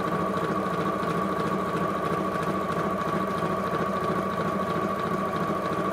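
Sewing machine stitching steadily across a fabric seam while making a fat-quarter sunglasses case, a continuous close, even mechanical whir with a rapid needle rhythm and no pauses.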